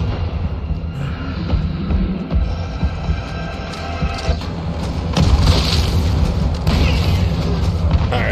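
Heavy booms and throbbing low rumble from Nemesis firing a bazooka in Resident Evil 3, with repeated blasts building in loudness over a dense game soundscape and no voices.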